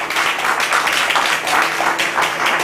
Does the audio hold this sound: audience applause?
yes